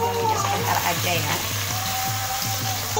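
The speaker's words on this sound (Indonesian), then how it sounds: "Goreng bumbunya sebentar aja ya." Spice paste frying in a Teflon pan gives a steady, full sizzle that runs unbroken throughout, with faint clinks of stirring on top and voices talking in the background.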